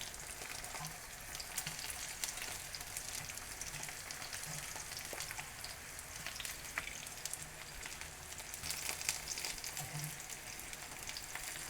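Vegetarian appetizer pieces frying in a pan on high heat, a steady loud crackling sizzle with scattered pops running throughout, no voices.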